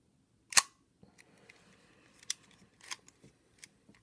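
A Kiev 4a rangefinder camera's shutter fires with one sharp, close mechanical snap, followed by quieter clicks and a few more crisp shutter and advance clicks spaced out over the following seconds.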